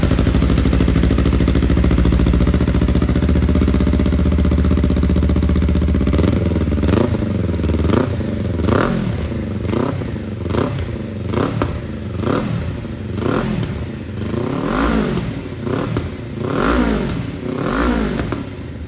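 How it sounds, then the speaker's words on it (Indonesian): Several Kawasaki KLE 500 motorcycles fitted with identical aftermarket exhausts and dB killers idle loudly, then rev in repeated sharp bursts, each rising and falling in pitch, close and dominant with no talking. "Sekarang kita tes menggunakan DB killer."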